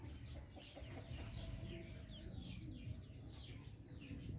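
Chickens and chicks cluck in quick, repeated short calls, faint and somewhat distant, with no one talking.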